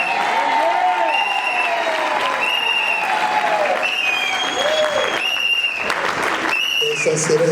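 A congregation at a church service applauds the newlyweds with loud, continuous clapping while a voice speaks over it.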